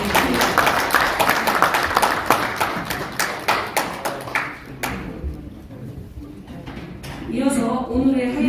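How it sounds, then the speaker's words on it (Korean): Loud hall applause for a speaker at a symposium in a National Assembly members' office building meeting room, dense clapping for about five seconds, fading, then a voice talking over the last part. "큰 박수로 다시 감사의 박수를 부탁드립니다"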